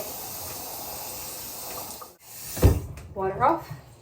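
Tap water runs steadily into a sink while a chicken is rinsed, then cuts off about halfway; someone speaks briefly afterward over faint handling sounds.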